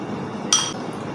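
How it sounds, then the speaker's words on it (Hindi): A metal spoon clinks once against a bottle while pushing a tablet inside, a single bright close ring that fades quickly over a low steady background. "वो मैं चम्मच की मदद से इस बोतल में डाल रहा हूँ ताकि वो अच्छे से हल हो जाए"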